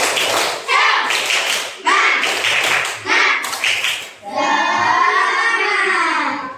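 A class of students does a rhythmic Indonesian cheer clap in a school lesson, a few quick bursts of sharp group claps with voices, then a sustained chanted call at the end.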